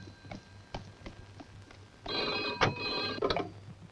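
An old-style telephone bell rings loudly in two bursts, with light tapping and knocking beforehand and a steady low hum underneath.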